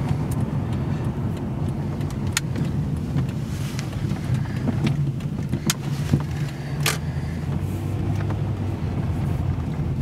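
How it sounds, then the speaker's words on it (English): A 1999 Dodge Intrepid driving, steady low engine and road rumble with wind noise from inside the cabin, a few faint clicks and rattles over the continuous drone, no speech. "it's a fun little car to drive"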